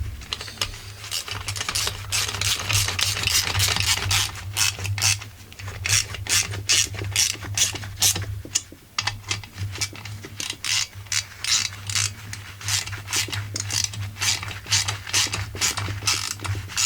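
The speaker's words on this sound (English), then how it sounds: "I have to use the 8mm wrench here to tighten the screws on the muffler." An 8mm ratchet wrench clicks in rapid, uneven bursts while tightening the muffler screws on a Husqvarna 45 chainsaw, close up, with a low hum underneath and no talk.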